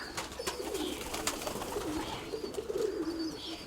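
Pigeons coo softly in low, rolling calls, several overlapping at moderate distance, with occasional rustles and faint chirps in the background.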